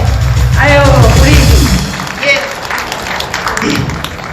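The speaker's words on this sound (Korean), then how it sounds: "여러분 뜨거운 박수를 부탁드립니다" Audience applause at a gathering for a Cheonan care home, a sustained wash of clapping that fades after a couple of seconds while a voice speaks over it.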